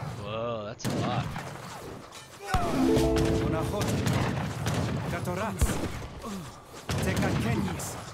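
Musket volleys in an Age of Empires III battle, cracking in short bursts over thick layered battle noise and music, while a voice talks over the din throughout.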